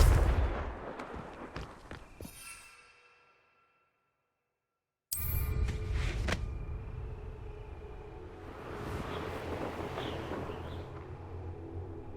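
Fiery Confringo spell blasts in Hogwarts Legacy go off as loud booming explosions with crackling tails. A second of dead silence splits them, and a lower rumbling ambience follows.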